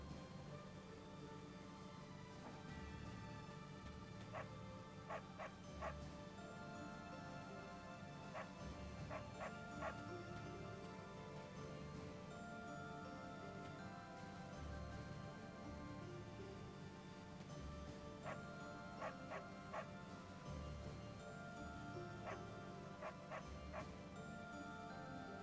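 Inside the Fire Emblem: Three Houses video game, a dog yips and whimpers in small repeated bursts. The bursts return at intervals over a steady bed of background music and ambience, fairly soft and not far off.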